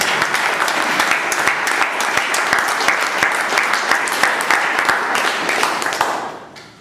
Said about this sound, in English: Let's give them all give a big round of applause to all the speakers who give us their speech.